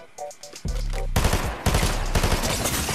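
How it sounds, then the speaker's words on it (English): Rapid automatic gunfire in a video game crackles in dense bursts after a few sparse shots at the start, loud and close with no talking. "He was shooting at somebody."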